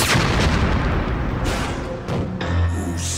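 A bomb goes off in a Mega Man cartoon, a loud, dense, rumbling blast that roars for about two seconds before breaking into smaller bursts and settling.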